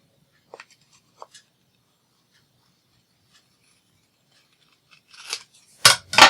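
After a long near-silent stretch with a few faint ticks, scissors snip lace in two or three short, crisp cuts close to the end, with no one speaking.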